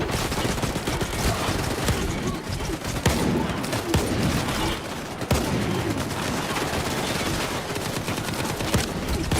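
Energy weapon gunfire in STALKER 2, a dense, continuous barrage of rapid shots and crackling bursts filling the whole stretch with loud, overlapping volleys.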